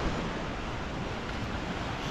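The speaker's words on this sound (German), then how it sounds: "hinter mir plätschert das Meer" Soft, continuous wash of sea waves at a winter campsite by the shore at sunset, a faint, even roar with some wind, no voices.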